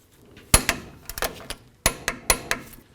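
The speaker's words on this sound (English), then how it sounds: "We'll bottom it out and then torque it to 67 foot-pounds." A torque wrench tightens a tie rod nut to 67 foot-pounds, giving several sharp, close metallic clicks and knocks in two uneven clusters with no talking.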